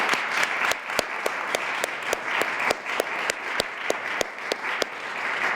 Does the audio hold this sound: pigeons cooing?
no